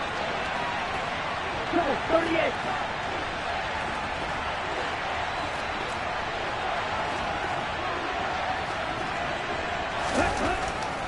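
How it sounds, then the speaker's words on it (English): Football stadium crowd roaring steadily ahead of a big third-down play, a broad sustained wash of cheering with swells near the start and end, under continuous talk. "the crowd getting into it as we come up on a big 3rd down"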